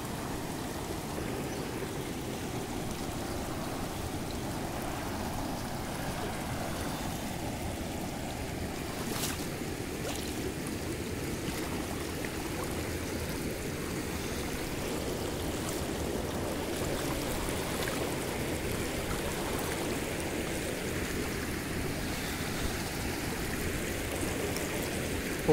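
Steady rushing water flows continuously, a dense broadband wash with no voices, like a stream running nearby.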